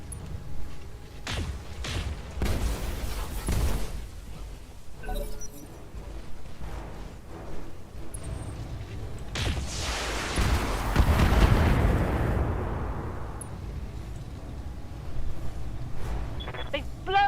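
Turret gunfire and explosions in the mech combat game Battletech, a string of heavy booms and blasts with a large rumbling burst midway, dense and fairly loud, with no talk over it.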